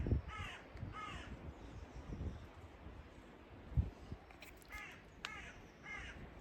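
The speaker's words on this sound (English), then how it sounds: "Even the birds are saying good morning." Crows caw repeatedly outdoors at sunrise, several harsh calls in bursts at moderate distance over a steady low outdoor rumble and light wind, with no talking.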